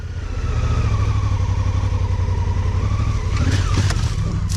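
A Honda Africa Twin CRF1000 motorcycle engine revs steadily and loudly up close on wet red clay with puddles on a mountain, with a burst of tire slip and sliding noise near the end.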